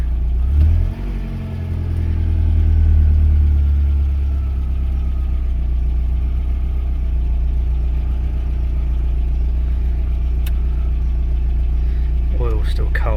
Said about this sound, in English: Now if I go into D, the engine sort of starts revving up a little bit.